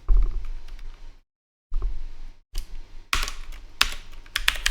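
Rapid typing on a computer keyboard, close and crisp, with bursts of clicking keystrokes broken by a brief pause, growing louder and busier toward the end.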